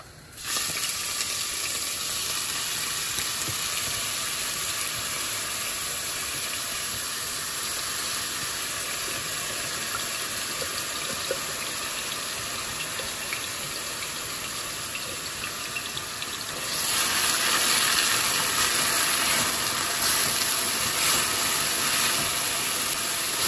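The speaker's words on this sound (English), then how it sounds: "in some hot oil, we're going to add some chopped up onion" Chopped onion sizzles in hot oil in a pan, a steady broadband hiss that grows louder and brighter near the end, with no talking.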